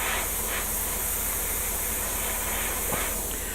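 Airbrush spraying paint lightly onto a Star Trek Voyager model hull: a steady, close, full hiss of compressed air that runs without a break.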